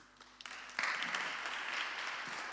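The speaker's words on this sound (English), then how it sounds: "can we give Mark an even better round of applause than that?" Audience applause breaks out after a few scattered early claps, then swells into steady sustained clapping from a room full of people.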